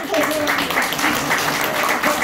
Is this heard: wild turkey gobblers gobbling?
no